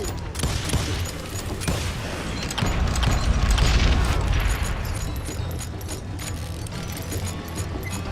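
Gunfire and booming impacts in the Western shooter Call of Juarez Gunslinger, a dense continuous barrage of loud shots with a swelling rumble near the middle.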